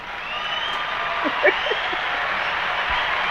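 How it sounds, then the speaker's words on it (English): Audience applause at a talk, a steady wash of clapping throughout with a brief cheer or shout partway through. "Round of applause."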